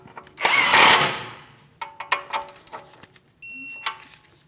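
A wrench snugs the outer tie rod end nut on a 2015-2016 Chevrolet Malibu steering rack, with a loud grinding burst followed by scattered metallic clicks and taps close by, no talking.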